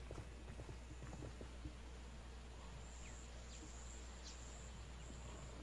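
Faint hoof clip-clop of a snow lion mount running in the ArcheAge online game, soft rapid steps amid a quiet ambient bed with insect-like chirps.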